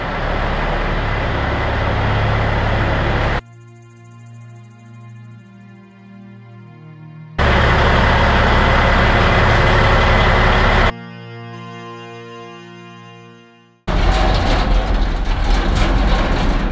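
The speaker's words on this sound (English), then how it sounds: "So basically that truck is coming in here now for a battery charge." A truck due for a battery charge, its drive shaft needing two worn U-joints replaced, rolls in with loud broadband engine roar that alternates with stretches of steady, lower tonal idling rumble.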